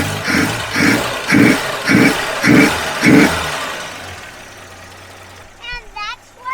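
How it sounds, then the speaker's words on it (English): A 1959 truck's 235 six-cylinder engine runs close by with a steady, pulsing rhythm that settles into a low, even idle, and a brief voice is heard near the end. "Listen to how smooth that little 6-cylinder runs."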